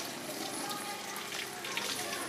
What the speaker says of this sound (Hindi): आगे कुछ भी करने से पहले अपने हाथों को अच्छी तरह से धोकर साफ करें